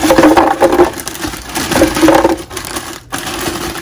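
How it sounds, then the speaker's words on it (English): Vitamix blender grinding frozen bananas and strawberries, a loud continuous churning roar with a brief dip near the end. "we're just gonna put this in the Vitamix"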